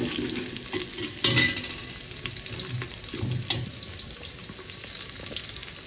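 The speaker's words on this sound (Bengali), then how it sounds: "পেঁয়াজটা ভাজা ভাজা হয়ে গেলে আমরা এর মধ্যে আদা রসুন বাটা দেব।" Ginger-garlic paste frying in a pan with fried onions for a bachelor-style khichuri, a steady close sizzle broken by scraping stirs, with one louder clatter early on.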